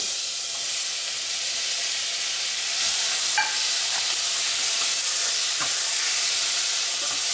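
Tomatoes tipped into a hot pan already holding green onion, bringing a steady, close sizzle and hiss, with a few soft stirring scrapes and clinks around the midpoint and nobody speaking.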